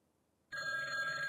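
A telephone rings loudly and steadily after a short silence, a bright electronic ringing tone that starts abruptly and continues without a break, heard alone with no voices.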